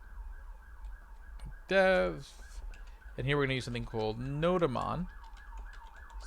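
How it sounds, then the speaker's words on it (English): A wailing siren rises and falls in the distance, a steady warble running under someone speaking close by. "Sorry for the sirens in the background."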